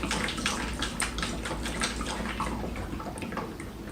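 Tap water running steadily and close by, filling a cat's water bowl indoors, with a continuous splashing stream throughout and no talking.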